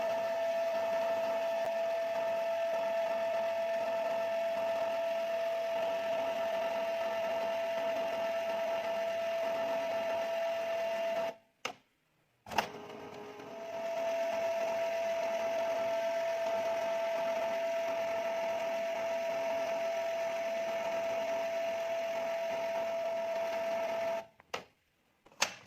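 A Canon G2420 inkjet printer with empty, air-filled ink pipes and a blank-page fault runs with a steady mechanical whir and a constant tonal hum, cutting out briefly near the middle and again near the end.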